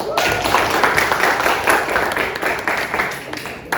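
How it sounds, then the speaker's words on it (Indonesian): Students in a classroom clap for a classmate, a short burst of close, uneven hand clapping that stays fairly loud before tapering slightly toward the end. "tepuk tangan untuk Sultan juga"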